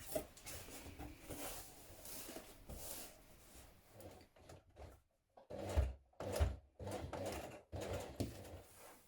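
A sewing machine runs a line of top stitching on dungarees, its motor whirring in bursts separated by short pauses, close and steady, with no talking.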